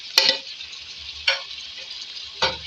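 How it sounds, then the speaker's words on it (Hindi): A spoon scrapes and stirs chopped tomatoes with red chili and turmeric in a hot pan, giving three sharp close scraping strokes over a soft steady sizzle. "अब इसको हम मिक्स करेंगे अच्छी तरीके से। इसमें कुक करेंगे ताकि हमारे जो टमाटर हैं ये सॉफ्ट हो जाए।"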